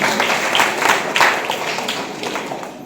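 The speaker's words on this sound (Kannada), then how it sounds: "ಜೋರಾದ ಚಪ್ಪಾಳೆ." Audience applause at a live comedy show in Karnataka: a loud, dense wash of clapping with a few swelling bursts, sustained through the whole stretch without speech.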